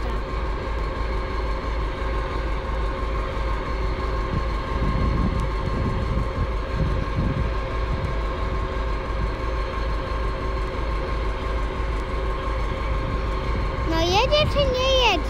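A train slowly starting to move off, with a steady low mechanical drone and hum close by, occasional voices including someone talking over it, and a brief rising tone near the end.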